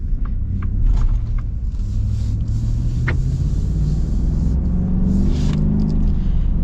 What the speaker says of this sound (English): The engine sounds kind of beefier right off the bat.